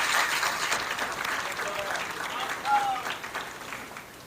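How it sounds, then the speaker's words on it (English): A crowd at a community fundraising event in Toronto applauds steadily, with the clapping swelling slightly partway through, while a voice speaks briefly over it. "Can we have a round of applause for"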